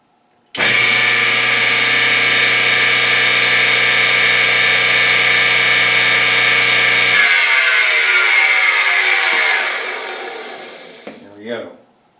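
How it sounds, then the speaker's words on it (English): The motor of a 1959 Axeman Anderson 130M furnace starts abruptly and runs as a loud, steady, close hum for about nine seconds, then winds down with a falling tone and a brief rattle before stopping. "ASTI motor turned on. Turned off, turned back on again."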